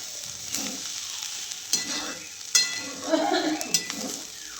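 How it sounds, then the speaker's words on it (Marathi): Leftover rice being reheated in a pan on a gas stove, with soft continuous sizzling and occasional stirring scrapes and clinks, fairly quiet and without talk. "रात्रीचा भात राहिला ते गरम करते."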